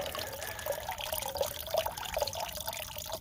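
Water trickling steadily into a soft water bag while being filtered on a mountain hiking trail, a soft continuous close-up stream with faint drips and no talking.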